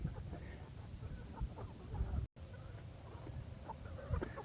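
Several chickens cluck softly and intermittently in the background, a low scattered chatter of hens at moderate distance.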